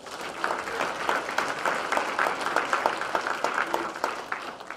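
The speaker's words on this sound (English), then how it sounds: "Another round of applause, please, for our 10th grade honor roll recipients" Applause at a high school academic awards ceremony for tenth grade honor roll recipients, a moderate, steady patter of many hands clapping with distinct individual claps, somewhat distant.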